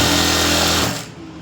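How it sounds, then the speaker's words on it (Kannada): A sewing machine stitches a princess cut blouse with a fast, steady mechanical whir close by. It runs for about a second, then stops. "ಡೆಮ್ಮಿ ಸ್ಟಿಚ್ ಇಟ್ಕೊಂಡು ಸ್ಟಿಚಿಂಗ್ ಹಾಕ್ಕೊಬಿಡೋಣ"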